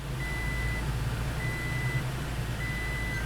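A plug-and-play dash cam in a Toyota Tacoma chimes as it starts up, with three evenly spaced steady tones over the low hum of the running vehicle, heard close and clearly.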